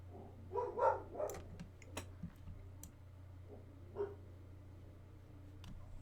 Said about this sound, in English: Doggies barking outside, making our doggies bark inside.